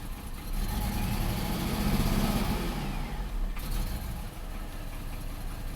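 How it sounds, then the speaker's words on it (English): A GMC Sonoma pickup's engine, recently started after repeated fuel pump replacements, runs and revs steadily in a shop, a loud continuous drone that swells and holds without any talk. "Okay, I'm going to rev it up."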